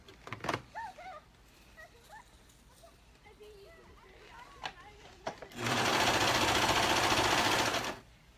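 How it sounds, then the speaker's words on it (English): A serger runs around the edge of fabric to hold it in place, a loud, steady buzzing burst of about two and a half seconds after some quiet handling sounds and clicks. "to run a stitch around, or to serge around, just to get the fabric held in place better"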